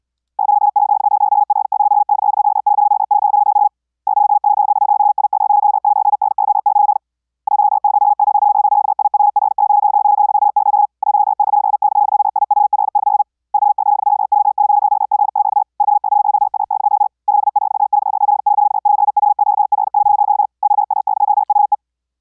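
High-speed Morse code CW at 130 words per minute, keyed through ZamGate keyer software, comes through as a single steady tone broken into very rapid, buzzing bursts with short gaps between groups, loud and with no talking.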